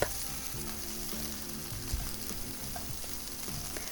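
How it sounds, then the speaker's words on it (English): Plant-based sausage heating in a pan gives a continuous quiet sizzle, close up, with a few faint knocks of a utensil and a low hum underneath, no talking. "First we're gonna start with plant sausage. We're gonna heat this up"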